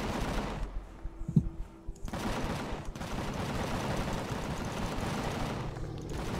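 Turret gunfire in the space survival game Empyrion Galactic Survival, heard as dense, continuous bursts of shots that run steadily through the clip at moderate loudness, with no talking.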